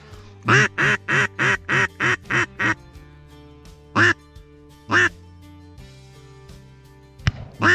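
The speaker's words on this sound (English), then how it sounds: "we've got about 50 ducks just circling up across from us" A rapid run of loud, evenly spaced duck quacks, then a few separate quacks spaced farther apart, close and clear against quiet, during a duck hunt over decoys on Australian rice fields.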